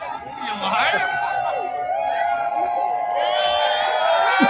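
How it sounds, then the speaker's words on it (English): An outdoor crowd at a sledding hill cheers and whoops for a sledder after a wild run, excited shouts and chatter rising and falling over several seconds, close and lively. "They cheer him."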